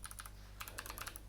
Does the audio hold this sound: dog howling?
no